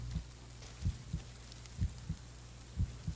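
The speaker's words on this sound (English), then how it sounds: "Why is my heart beating all crazy?" Heartbeat sound effect in the Blair Witch horror video game, a steady low double thump repeating about every second, moderately loud over a faint ambient background hum with no talking.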